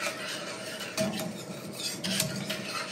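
A whisk stirs and scrapes through a thickening sauce in a pan over raised heat, making a steady continuous rasping swish against the pan bottom, close and fairly quiet, with no talking.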